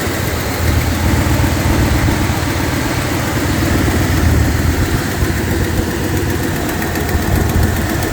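A 2005 Lincoln Aviator fitted with a swapped 2003-04 Cobra engine and rigged 99-01 upper and lower intake manifold idles steadily and loudly up close, its rough low rumble carrying a light ticking throughout, with no talking.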